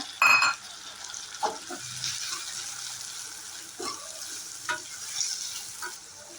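A large chopped tomato goes into sautéed onions in a pan, bringing a steady, close sizzle broken by a few scraping stirs and soft clatters.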